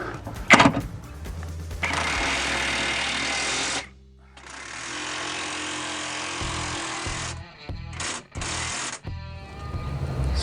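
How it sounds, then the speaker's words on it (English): Ingersoll Rand W7152 20V cordless impact wrench driving a jack, with a loud, sustained hammering rattle in long bursts, then a pause and several shorter stop-start bursts close by. "we're going to use our 20-volt impact wrench"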